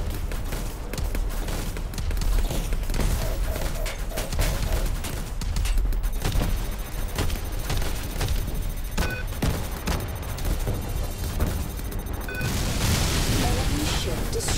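Rapid, dense turret fire from the space combat game Star Conflict, a sustained barrage of shots and booms layered over engine rumble, loud and continuous with a few sharper bursts.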